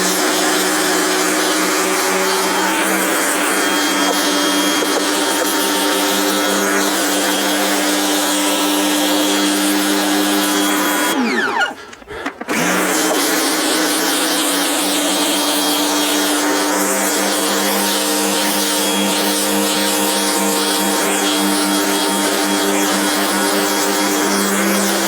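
A pressure washer rinses a rug, a loud, constant high-pressure spray and motor roar close by, broken by one brief pause near the middle before the spray resumes steadily.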